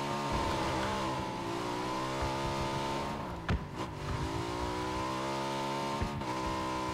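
A car in PUBG, the battle royale game, drives with a steady, loud engine drone whose pitch shifts briefly mid-way as it changes gear or accelerates, then settles back into a constant hum.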